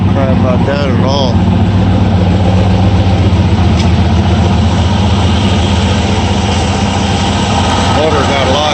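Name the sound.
1960 Ford F100 engine idling after carburetor rebuild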